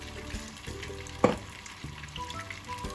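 Butter and ghee melting together with mustard oil in a pan give off a steady, low sizzle and crackle, broken by one sharp clink near the middle, with no one talking.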